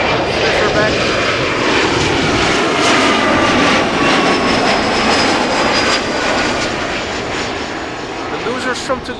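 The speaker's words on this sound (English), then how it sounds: "Embraer 175 arriving from Leeds." An Embraer 175 jet airliner arriving at Amsterdam Schiphol Airport on a summer evening, its engine roar loud and sustained, a broad rushing whine that gradually eases toward the end.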